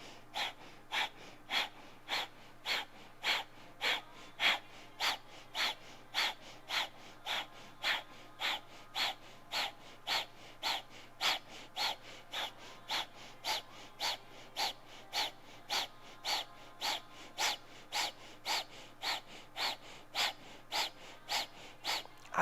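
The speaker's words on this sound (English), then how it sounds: "keep the breath going, that breath of fire" Rapid, rhythmic breath of fire during a Kundalini yoga class, sharp forceful exhales pulsing evenly about once a second for the whole stretch, close and steady with no talking.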